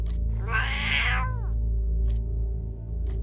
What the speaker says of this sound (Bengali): প্রথমে মনে হলো ওয়েলিংটন বিড়াল হয়ে আমার কাছে আফিম ভিক্ষা করতে এসেছে